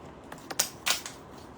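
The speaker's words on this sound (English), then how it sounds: "Those were my keys." A set of keys jingles in a few quick metallic clinks and rattles, with a brief pair of bursts close to the microphone over faint room noise.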